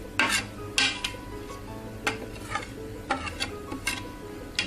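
Masala spices and salt being stirred into potatoes in a metal pan, with irregular clinks and scrapes of a utensil against the pan over a soft background sizzle.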